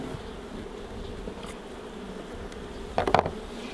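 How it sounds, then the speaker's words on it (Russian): Honeybees and drones on a hive frame give off a steady low buzzing hum, with a brief louder burst of close wingbeats near the end. "Вот смотрите, сколько трутней ходит. Сколько пчел?"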